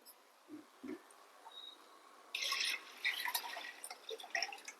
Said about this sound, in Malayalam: ഇനി നമുക്ക് ആവശ്യത്തിന് വെള്ളം ഒഴിച്ചു കൊടുക്കാം.